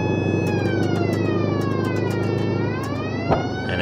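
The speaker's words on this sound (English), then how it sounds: "Alright, time to hit him with the siren." A police car siren wails from a game vehicle in BeamNG.drive on Italian roads, rising and falling over a steady engine drone, loud and close, with a sharp bump near the end.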